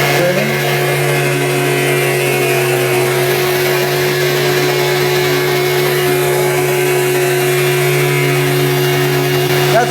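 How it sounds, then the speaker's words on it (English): A wall sander with vacuum extraction runs continuously, giving a loud, steady motor whine with a droning hum that holds evenly for the whole stretch, with no talking. "it's so powerful that the sander gets stuck on the wall"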